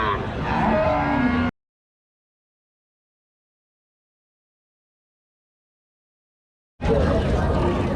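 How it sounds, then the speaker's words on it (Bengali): Calves and cattle at a weekly livestock market lowing amid crowd chatter, a loud busy bustle at the start and end with a long silent gap between. "এরকম বাছুর মেলা বড় দায় তো এক এক সাইজের সব বাছুর দেখেন"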